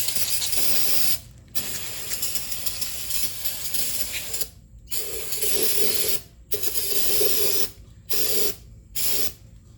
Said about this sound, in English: You get some brake cleaner. Clean up this hub.